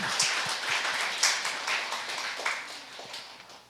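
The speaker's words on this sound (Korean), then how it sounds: "하나님께 영광의 박수 드리시기 바랍니다" A church congregation at a Sunday worship service applauds, a dense, steady patter of many hands that holds at moderate loudness for a few seconds with no voices over it.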